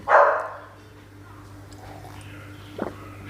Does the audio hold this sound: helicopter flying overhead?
no